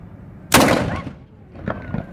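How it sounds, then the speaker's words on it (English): A cannon fires once with a loud, close boom that rolls off into a decaying rumble, followed by fainter clatter and echoes afterward, with no voices. "Move up and address the cannon."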